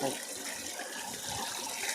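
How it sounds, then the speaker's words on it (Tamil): Water runs steadily from a tap or spout where someone is bathing, a continuous close hiss and splash with no pauses across the whole stretch. "இங்கே தண்ணி ஓடிக்கிட்டே இருக்குது."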